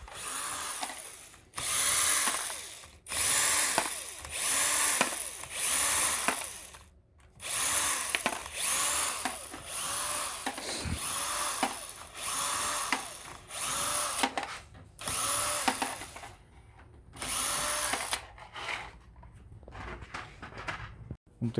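A power tool unscrews parts from a Toyota Prius Alpha in bursts of loud whirring and ratcheting, starting and stopping repeatedly, with people talking in between.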